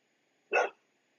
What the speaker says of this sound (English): dog going crazy.